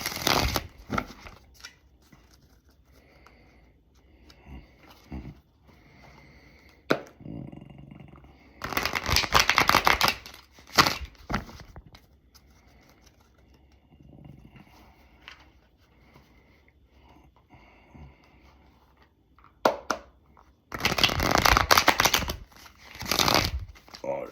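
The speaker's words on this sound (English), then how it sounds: "So let's pull a couple cards and I'll let you go." A deck of cards is shuffled in two loud, close bursts of rapid riffling, set apart by quieter stretches with soft handling sounds and a person speaking.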